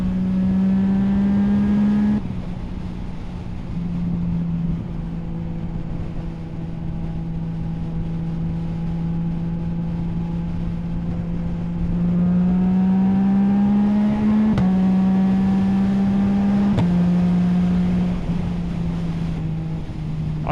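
A Yamaha MT07 motorcycle drones steadily on a relaxed road ride, its engine note climbing in pitch and then dropping sharply at several gear changes, loud and close, with wind rush underneath and no talk.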